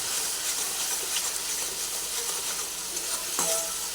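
Fish curry paste with salt fries in a pan for bata fish curry with cauliflower, a steady, close sizzle with occasional stirring scrapes.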